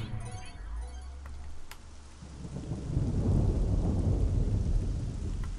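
A thunderstorm spell in the video game Black & White brings a deep rumble of thunder followed by steady, rushing rain that swells and holds loud to the end.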